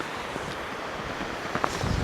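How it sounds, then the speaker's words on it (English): Strong wind buffets the microphone on a beach at Cambois, Northumberland, while fishing, with a steady broadband roar and surf wash beneath, gusting louder toward the end. "Oh, so windy. So windy."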